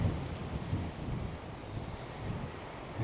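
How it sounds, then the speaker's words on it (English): Strong wind from an incoming storm buffets a cyclist's microphone on a 100 km brevet ride, a steady broadband roar with a few gusty surges and low rumbles and no talking. "this wind's picking up with this storm that's coming in for tonight"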